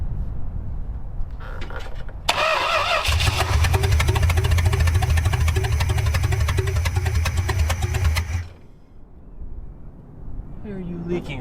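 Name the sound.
junkyard Chrysler engine idling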